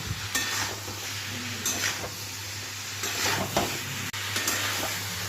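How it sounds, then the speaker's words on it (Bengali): Fried eggplant, potato and bitter gourd are stir-fried with spices in a pan. Spatula strokes scrape and clink against the metal at intervals over a continuous close sizzle and a low steady hum. "এবার মশলার সাথে সবজিগুলোকে ভালো করে আমি কষিয়ে নেবো"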